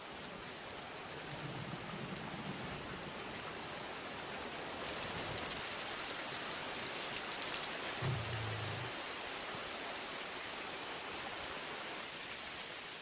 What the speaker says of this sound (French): Les pluies de novembre annoncent la fin de la saison sèche.